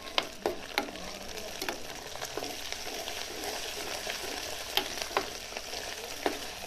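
Ginger paste being stirred into well-browned onions frying in a pan for chicken Bombay biryani, a steady close sizzle with sharp intermittent scrapes of a spoon against the pan, no voices.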